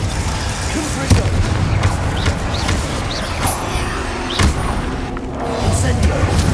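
Confringo explosive spell blasts in the Hogwarts Legacy video game, several booming bursts and thumps amid a busy, rumbling battle mix, with a voice talking now and then.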